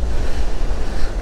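Surf washes steadily onto a beach near Sydney with clayey-coloured sand, a continuous close rush of waves mixed with wind noise, no voices.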